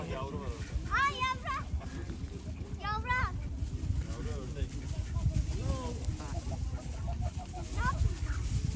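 Soft clucking and chirpy bird calls come in scattered bursts over a steady rumble, with people talking close by throughout.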